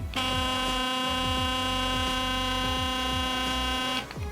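A Philips DiamondClean 9300 electric toothbrush runs in deep clean mode, giving a loud, steady buzzing hum with a regular throbbing pulse for about four seconds before cutting off, heard alone at close range.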